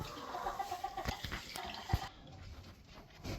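Jersey Giant chickens on a farm in spring, soft clucking and fowl murmurs heard faintly at a distance against a quiet background.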